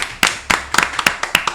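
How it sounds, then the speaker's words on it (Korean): About ten people gathered in a small podcast studio clap briefly, a short burst of sharp, distinct claps close to the microphone, starting and stopping quickly. "자, 박수!"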